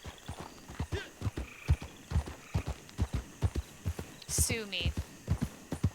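Horse hooves clip-clop in steady, even rhythm as a horse walks in the game Red Dead Online, close and clear throughout, with a brief whinny near the end and someone talking over it.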